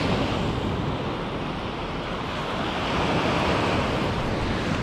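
Sea waves wash steadily onto a beach. The surf is a constant broadband roar with slight wind buffeting on the microphone, loud and close, and no voices.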